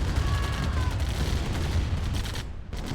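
Defensive turrets in C&C: Tiberian Dawn fire on a trapped group of tanks, a steady barrage of gunfire and booms over a low rumble, with a brief drop in noise near the end.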